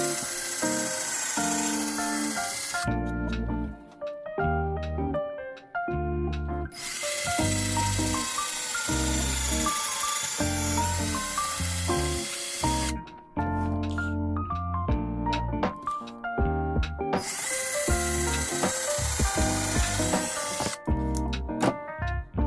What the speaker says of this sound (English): I'm going to drill the holes and get that end on.